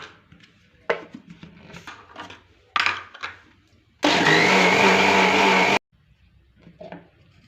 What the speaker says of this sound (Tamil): எண்ணெயோட இந்த தயிரையும் சேர்த்து மிக்சியில் போட்டு நல்லா பீட் பண்ணிட்டு கொண்டு வந்துடுறேன்